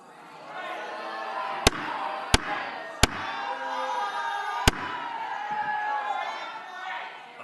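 Rowdy outburst from the public gallery during a heated Tennessee Senate debate on arming teachers: a sustained crowd roar of shouting voices with several sharp slams or bangs cutting through it.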